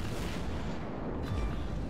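Heavy naval gunfire from the rear turrets of the battleship Tirpitz in World of Warships, a dense continuous rumble of booms that stays loud and close for the whole moment, with no talk.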